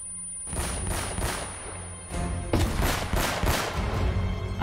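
Video game gunfire in Uncharted: Drake's Fortune: a fusillade of loud, close shots in clustered bursts after a short quiet start, firing on and off right to the end with no talk over it.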